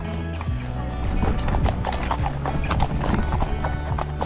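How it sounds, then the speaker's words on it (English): Horse hooves clip-clop along a trail through the Burren in County Clare, Ireland, in a steady, close, even walking rhythm that continues throughout. "going along on a horse, up through the Burren"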